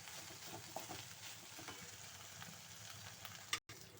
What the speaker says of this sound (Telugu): పసుపు, ఉప్పు వేసి కూర అనేది కలుపుతున్నాను.